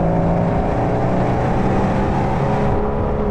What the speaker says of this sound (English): Whoa, that exhaust note is special.